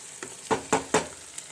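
Beaten eggs hit a pan of spinach and fry, with three or four quick sizzling, scraping bursts from stirring in a short, close burst; no voices.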